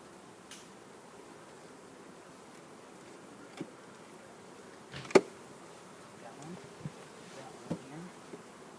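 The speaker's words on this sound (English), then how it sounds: "There's a lot of bees on there." Honey bees buzz softly around a beehive frame, a faint continuous drone broken by a few close wing passes and light knocks from handling the frame.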